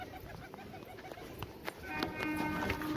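Domestic pigeons kept at a home loft, with soft cooing and fluttering calls rising over a low background rumble, growing fuller and more continuous toward the end.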